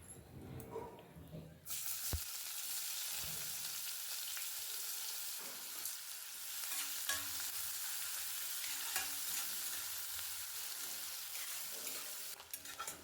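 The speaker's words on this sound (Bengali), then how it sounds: "এবার এর মধ্যে দিয়ে দেব একটা মাঝারি সাইজের পেঁয়াজ কুচি" Chopped onion hits hot oil seasoned with asafoetida, setting off a sudden loud sizzle that continues steadily with stirring scrapes, close up and without talk.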